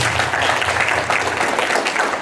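An audience at a BanglaRongo 2017 community presentation applauds, a dense, steady wash of clapping hands filling the room loudly and continuously throughout.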